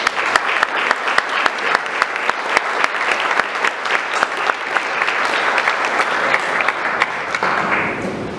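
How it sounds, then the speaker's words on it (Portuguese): A church congregation at a Sunday service claps in steady rhythm, many hands together and close, continuing without pause for about eight seconds before easing slightly at the end. "Aqueles que creem, por favor, aplaudam o Senhor Jesus."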